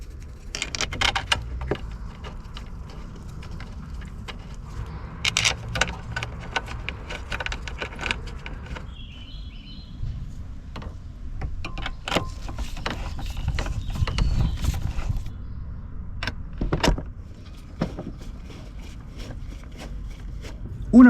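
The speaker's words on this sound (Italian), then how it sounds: "E riavvitiamo i bulloni." Bolts are tightened back onto the fuel filter housing of a Fiat Ducato with a ratchet, giving scattered metallic clicks, clinks and tool rattles, with sparse quiet ratcheting across the span.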